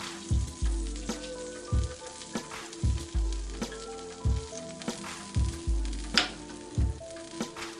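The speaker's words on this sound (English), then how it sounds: "when it's making that frying sound, that is the oil connecting with the water" Lobster tails fry in hot oil with a steady sizzle, broken by repeated sharp pops and crackles as moisture hits the fat, close and fairly loud with no talking.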